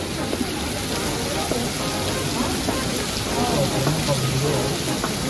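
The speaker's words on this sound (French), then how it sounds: "it's raining again" Steady heavy rain hisses continuously over a surface during a cruise stop, a dense wash of drops with faint voices murmuring underneath.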